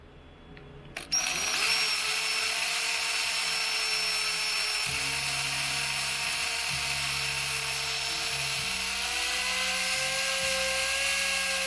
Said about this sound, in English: then I'll hook it up to a regular drill and make short work of it